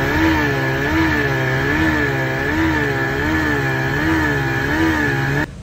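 A 1986 Johnson 28 horsepower outboard motor on a 16-foot boat runs steadily at high revs, with a loud, buzzy drone that wavers rhythmically in pitch and then cuts off abruptly at the end. No voices.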